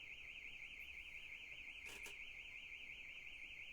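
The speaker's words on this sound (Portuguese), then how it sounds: "Vocês estão ouvindo, gente, o alarme de novo?" An electronic alarm sounds again as a steady, warbling high-pitched tone that holds for the whole stretch, with a brief knock partway through.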